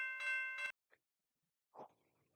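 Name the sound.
railroad crossing bells ringing in video game Ro-Scale Sandbox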